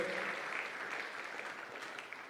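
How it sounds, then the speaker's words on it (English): Audience applause for President Samia Suluhu Hassan at a Merck Foundation summit hosted in Tanzania: continuous crowd clapping, faint and distant, steady across the hall. "Big round of applause, ladies and gentlemen, to her for hosting us today."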